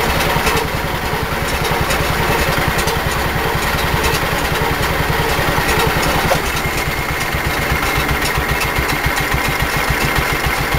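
A snow blower engine idles steadily at 1200 RPM, close and loud, with an even mechanical chug and no pauses.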